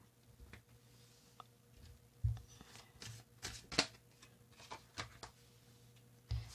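Tarot cards are shuffled by hand in quiet surroundings, soft riffling and slapping bursts recurring every second or so, close and faint with no talking.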